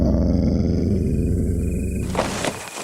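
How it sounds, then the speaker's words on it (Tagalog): An animal growls like a dog in a dark setting, a close, deep, sustained snarling rumble that ends in a rougher grunting burst, heard alone. "may marinig silang angil ng isang hayop"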